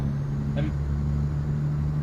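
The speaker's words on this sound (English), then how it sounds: "Well, that's actually how the engine sounds." A truck engine in American Truck Simulator idles at a steady, droning low hum on a North Texas road, loud and constant, with a brief faint click partway through and no talking.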